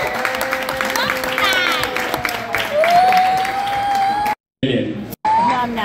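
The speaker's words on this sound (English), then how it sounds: "Let's clap our hands quickly." A crowd at a birthday party claps hands, a dense patter mixed with voices and singing, fairly loud and close, cut by two brief dropouts near the end.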